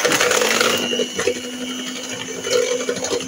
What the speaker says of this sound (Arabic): غادي نبدا نضرب البيض